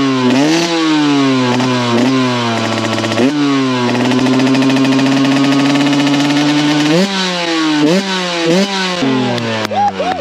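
A loud car engine and exhaust rev hard, close by, climbing in pitch through repeated gear pulls and long sustained high revs, then dropping and rising again in sharp bursts; no talk is heard.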